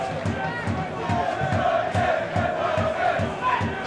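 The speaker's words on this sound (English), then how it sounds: "it's applause before kickoff as tribute is paid to the Forest Green Rovers under 18 manager Chris Barker" A football stadium crowd at Crawley Town against Forest Green Rovers applauds before kickoff as a tribute. The dense, rhythmic clapping and crowd noise sound close and continuous.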